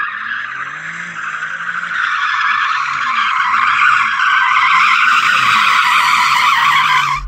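BMW M2 launching in a drag race, its tyres skidding and squealing in a sustained, loud screech over the revving engine, with the squeal wavering steadily for several seconds.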